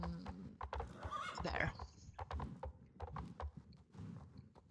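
A horse in a video game whinnies loudly, then hooves clip-clop in a steady walking rhythm while riding, with light game sounds in the background.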